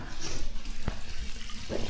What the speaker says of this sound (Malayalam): നമ്മൾ രാത്രി വാഷ്റൂം എല്ലാം ഉപയോഗിക്കാൻ വേണ്ടി വെള്ളം പിടിക്കുകയാണ്